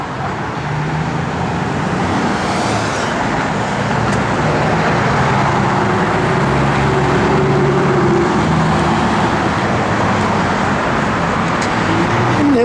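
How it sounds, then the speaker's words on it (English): A 1968 Chevrolet Chevelle with a 454 engine drives steadily on the road, its loud, continuous engine and road noise rising and falling slightly as gears are shifted, with no talking. "Fun car to bang the gears in."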